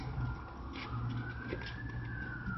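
A police siren sounds faintly in the distance, a slowly rising wail under a low rumbling background hum. It is quiet and far off, with no talk.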